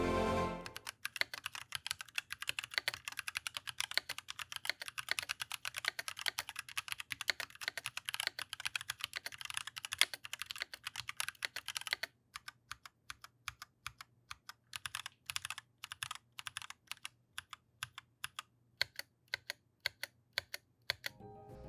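Steady typing on a keyboard with ROG RX Brown tactile switches, a quick stream of crisp keystrokes at close range and moderate volume, with no voices.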